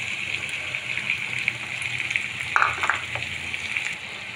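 Chopped tomatoes go into a pan of onions frying with salt for a prawn bhuna, giving a continuous close sizzle with a brief burst of louder crackling as they land.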